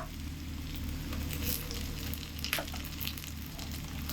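Ginger, cumin and chilli spice pastes with green chillies frying in hot oil for ghugni, a steady soft sizzle with occasional pops and stirring scrapes, close and continuous.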